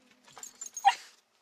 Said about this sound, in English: I want one bark for yes.